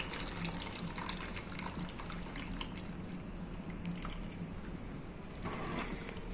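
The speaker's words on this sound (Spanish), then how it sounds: "esta rejillita que es por donde vamos a escurrir la pasta" Pasta water pours and gushes steadily through a Tupperware strainer for several seconds, a continuous splashing rush at moderate volume with no voices.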